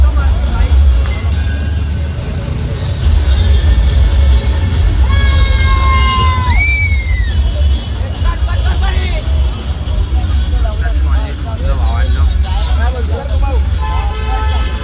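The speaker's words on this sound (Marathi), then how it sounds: "गर्दी आहे." Dense street crowd at a Ganesh arrival procession in Mulund, with a constant loud hubbub of voices, car horns tooting and whistles rising over the babble, while nearby people talk throughout.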